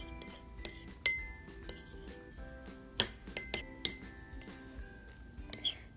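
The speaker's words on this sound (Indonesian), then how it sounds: "Selanjutnya diaduk-aduk." A spoon stirs a test mixture of food and hot water in a glass, giving a handful of sharp, light clinks scattered over a few seconds in an otherwise quiet room.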